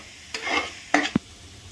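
Masala spices roasting in a pan, stirred in brief scraping sweeps with a soft sizzle between them, close and fairly quiet with no voices.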